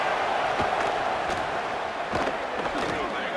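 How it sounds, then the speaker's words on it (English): Stadium crowd roaring and swelling behind the defense on a third down at a football game, a dense continuous wall of cheering with brief sharper shouts and thumps rising through it. "Decibels rising as the crowd gets behind this defense on 3rd down"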